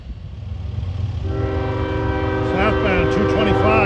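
Freight train pulled by ES44AC, AC4400CW and ET44AC locomotives, a loud rumble growing as it nears, then a sustained multi-tone horn blast held close by.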